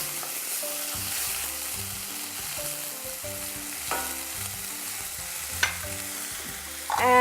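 Food sizzles steadily in a hot frying pan as a blended paste is stirred in, a utensil scraping and stirring with occasional clinks against the pan; no talking.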